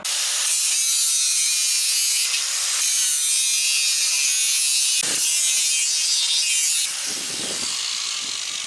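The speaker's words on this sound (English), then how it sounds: "And then you grind it all down and make it pretty." An angle grinder grinds down welded steel on a truck lift conversion, a loud continuous harsh whine running for several seconds with brief dips as the tool lifts off the metal.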